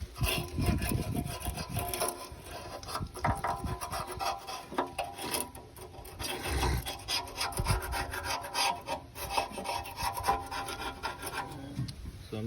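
A razor blade scrapes old gasket material from the oil pan seal surface of a Ford F-150, making a steady, close rasping rub in repeated strokes that runs throughout.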